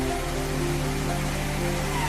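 A constant, dense roar of rushing water fills the air, broad and unbroken, from a rain-swollen waterfall in a forest setting at Meenmutty falls near Mallappally, Kerala, with a low steady hum beneath.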